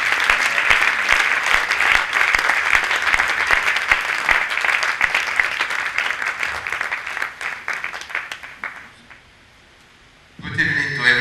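A church congregation bursts into sustained applause and acclamation, loud dense clapping with voices mixed in, fading toward the end before a short pause and a voice returning.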